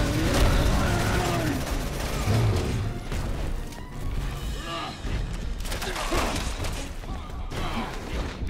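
Dense gunfire from the video game Resident Evil 6, rapid overlapping shots and crashes filling the whole stretch at a loud, steady level.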